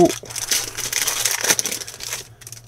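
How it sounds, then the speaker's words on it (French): A Pokémon Scarlet Violet booster pack wrapper crinkles and tears open up close, a continuous rustling crackle lasting a couple of seconds. "on va s'ouvrir trois boosters, donc un tripack de écarlate violet"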